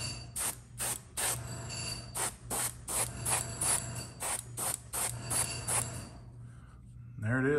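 An airbrush sprays transparent brown acrylic paint onto a miniature, a series of short, sharp hissing bursts in a steady rhythm over a faint background hum, then quiet and a brief voice at the end.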